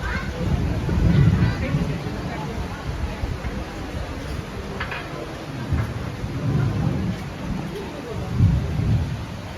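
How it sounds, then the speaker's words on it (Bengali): Heavy rain at the Sonajhuri craft market near Santiniketan, a steady hiss of downpour with several deep thunder rumbles rolling in and out and faint voices in the background. "এই যে দেখুন আজকে ভীষণ বৃষ্টি নেমে গেছে যথেষ্ট বৃষ্টি পড়তে শুরু হয়েছে"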